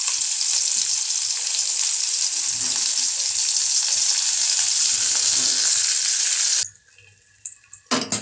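Raw mango pieces frying in oil make a loud, dense crackling sizzle close up that holds steady for several seconds, then drops away to quieter intermittent sounds.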